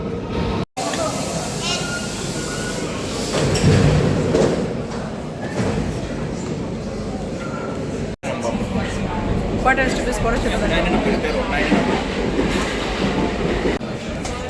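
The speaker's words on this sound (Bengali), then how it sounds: "চলে আসছে আমাদের মেট্রো" A Paris metro train pulls into Châtillon station with a loud, steady rumble and rattle that swells as it nears, while people talk close by over the noise.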